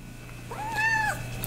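A cat gives a single rising and falling meow at close range, loud and clear over a low steady hum in a garage.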